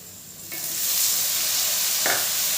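Ginger and garlic fry in a pan with a steady sizzle, and at about half a second and again near two seconds there are brief scrapes as tomatoes go in and are stirred, the frying swelling louder after the first addition.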